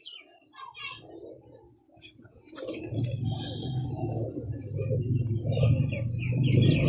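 A female sabz cheeni pigeon held in the hand gives soft, close cooing and rustling, with a faint chirp early on, under a voice speaking Hindi or Urdu that grows louder toward the end.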